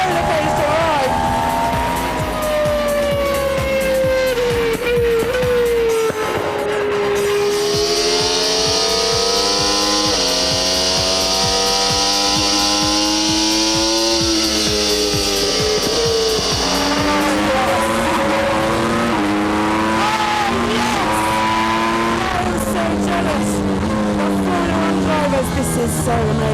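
A car lapping a racetrack at about 170 miles an hour, its engine roaring loud and continuous as the revs climb and fall through gear changes, with one long high squeal partway through while it brakes into a chicane.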